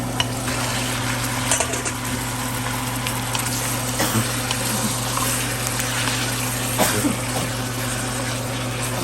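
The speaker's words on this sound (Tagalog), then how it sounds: "Halo-haloin lang natin." Chicken caldereta being stirred in a pan, a steady low sizzle and bubbling with occasional soft scrapes and clinks of the spoon against the metal, close and continuous with no talking.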